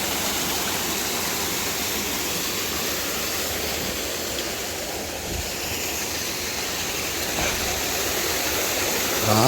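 Water rushes down a mountain stream in the sierra, a constant full roar close by that swells slightly toward the end, with no voices.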